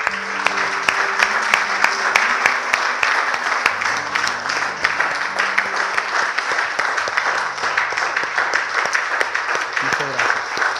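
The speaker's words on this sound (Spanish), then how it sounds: "¿Le podemos brindar a Él un aplauso?" Church congregation applauding at the close of a service, dense sustained clapping filling the room throughout, with musical tones held underneath and a voice faintly present.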